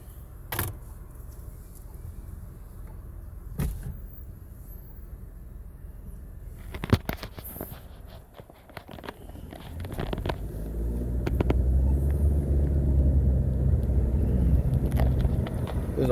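A car rolls along a forest trail: quiet at first with a few scattered clunks, then engine rumble and road noise swell and hold steady near the end.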